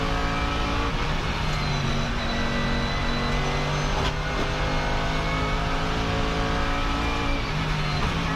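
Mercedes GT3 race car engine roaring at sustained high revs on the Nürburgring, loud and close with steady harmonic engine tones and shifting pitch throughout.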